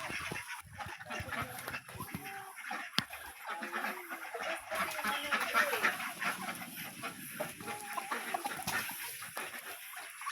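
Chickens cluck and murmur nearby with ducks around, amid a busy outdoor backdrop, with scattered bird calls and brief clatters.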